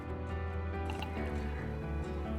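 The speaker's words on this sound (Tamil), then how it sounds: "நல்லா தண்ணி ஊற்றி கையால் பிசைஞ்சு விட்டு கழுவிக்கோங்க" Finger millet grains being washed by hand in water, with close wet squishing, sloshing and dripping as the grains are kneaded, over a steady low hum.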